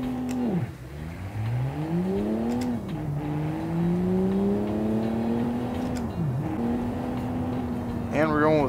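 Engine of the Classic GT car in the Automation video game, revving hard and climbing in pitch through several gear changes, loud and close, with a voice speaking briefly at moments.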